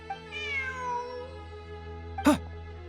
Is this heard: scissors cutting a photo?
no